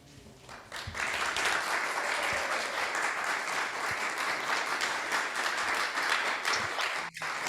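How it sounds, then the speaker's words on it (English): Sustained applause from a congregation fills a church sanctuary, many hands clapping in a dense, even roar that swells in and holds steady before briefly dipping near the end. "what you can't see is all the applause in the sanctuary"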